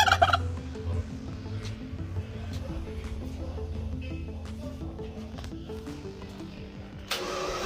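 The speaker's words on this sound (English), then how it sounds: "there's a turkey on the roof" A turkey gobbles on a roof in a rapid warbling burst at the start, then keeps up a low rumbling and several shorter calls, all fairly close and fairly loud, with a louder rustling noise near the end.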